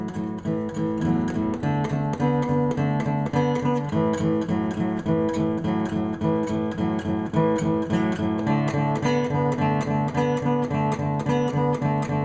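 A guitar plays a steady rhythmic chord vamp, bright strummed chords repeating in an even pulse with a short chord change, loud and continuous with no talking.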